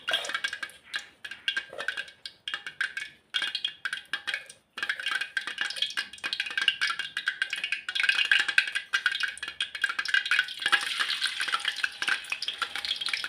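Oil crackles and sizzles steadily as battered wild sweet leaf (phak wan) tempura fries in a pan, with occasional clinks and stirring of utensils against the pan, growing busier over time.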